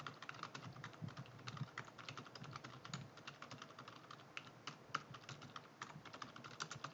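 Steady typing on a computer keyboard while entering data into an Excel spreadsheet, with rapid clicky keystrokes and occasional heavier key presses heard up close and alone throughout.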